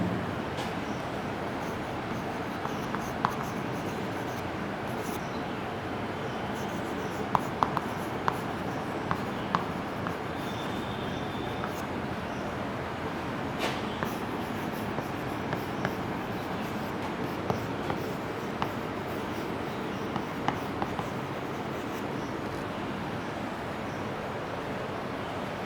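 Pen or pencil scratching across paper while a chemical reaction for lactase in intestinal digestion is written out, a soft continuous scratching with a few faint taps, steady and close against a constant background hiss.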